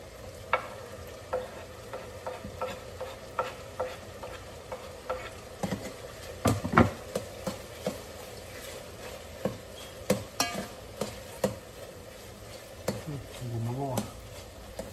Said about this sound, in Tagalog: Saka natin ilagay yung bawang at sibuyas.